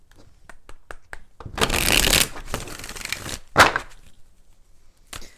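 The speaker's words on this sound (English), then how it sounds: "let's go ahead and do 4 shuffles" A deck of tarot cards is shuffled in several bursts of riffling and flicking, with brief card taps before and after, close up and fairly loud.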